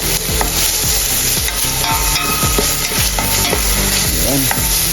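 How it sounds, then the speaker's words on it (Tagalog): Garlic is stirred into bopis frying in a pan, a loud, steady sizzle running throughout with repeated scraping strokes of a spoon against the pan, close and without speech. "At saka sunod na rin natin dito ang bawang. Haluin ulit natin."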